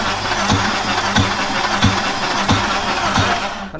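A modified car engine with a reworked starter, flywheel and twin-disc clutch turns over and runs, giving a loud, steady, rough idle with regular heavy pulses about every two-thirds of a second.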